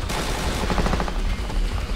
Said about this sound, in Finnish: Vittu kun ei tiedä yhtään mistä noin satana spedet ampuu.